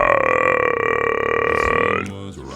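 A low bass singer's deep, sustained vocal note imitating a belch, a single rumbling croak held for about two seconds before breaking off abruptly, close and loud.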